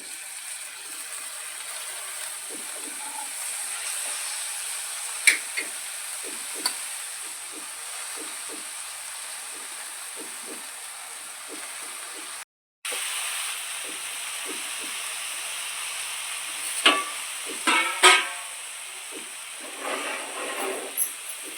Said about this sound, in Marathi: आता लसूण आणि मिरची चांगली तेलात भाजलेली आहे आता भाजी टाकत आहोत